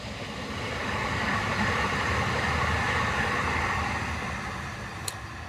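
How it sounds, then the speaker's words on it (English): A train passes nearby outdoors as a steady rumbling roar that swells and then slowly fades, with one brief high squeal near the end. "This train does come by like every 15 minutes"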